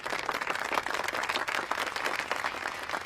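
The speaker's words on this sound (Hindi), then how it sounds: "चंदा के लिए ताली बजा दो एक बार" A classroom of students claps for a classmate, dense, even applause from many hands nearby, lasting the whole stretch without letup.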